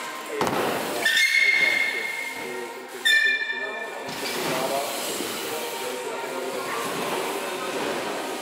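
Ambience at a train station as a train passes, with a steady rumble of rolling wheels and two short bright whistle or squeal tones standing out, while people talk in the background.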